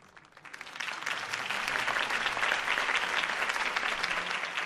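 Crowd applause in the Batman Telltale Series video game after a Harvey Dent campaign speech, swelling from a light start into steady, dense clapping that holds loud and full to the end.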